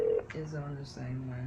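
Telephone tones sound on a phone line: a short high beep followed by steady electronic tones that shift pitch twice, with someone speaking faintly over the line.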